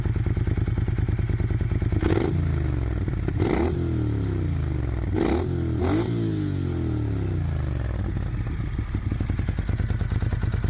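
A Grezzo V-twin naked motorcycle idles with a deep, uneven thump, broken by four quick throttle blips that rise and drop, then settles back to a steady rumbling idle close by, with no speech.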